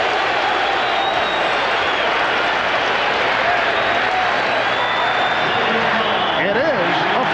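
A basketball arena crowd at the 1996 NBA Finals between the Bulls and Sonics roars steadily after a foul, a dense, loud wall of voices and clapping that stays sustained throughout.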